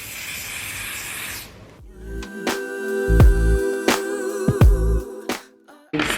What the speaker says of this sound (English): apply my glamour spray.